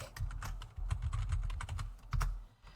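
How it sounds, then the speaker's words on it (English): Rapid clacking keystrokes on a noisy computer keyboard, close and fairly loud, with an irregular rhythm of clustered clicks and brief pauses, and no talking. "my keyboard makes a lot of noise"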